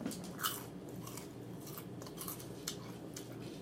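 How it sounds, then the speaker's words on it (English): Crunching on crispy Church's fried chicken, close-up bites and chewing with sharp crackles repeating irregularly, quiet but near, with wet mouth sounds in between. "Y'all hear that crunch?"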